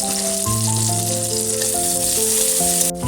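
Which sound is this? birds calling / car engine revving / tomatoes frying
tomatoes frying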